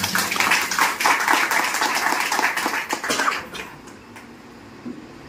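A crowd at a community society meeting claps with dense, steady applause for about three seconds before it quickly dies away to near silence.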